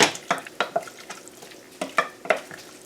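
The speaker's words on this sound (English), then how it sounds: "now we're just going to stir this tofu into this yummy, yummy sauce and coat it all the way" Cubes of tofu are stirred into a thick sticky sauce in a pan, giving a series of close, soft wet squelching scrapes in irregular bursts with short gaps between.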